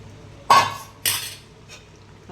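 Cornflour sauce mixture for chili chicken being stirred in a pot, two distinct scraping clinks of a utensil against the pan followed by a fainter third, with no talking.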